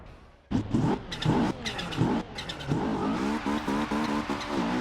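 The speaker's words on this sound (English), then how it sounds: "the first thing you notice when driving this thing is the insane turbo chirp it has" BMW E30 M3 in Forza Horizon 2, built for drifting, with the engine revving hard in repeated bursts that rise in pitch, then a sustained run with chirps between gear changes.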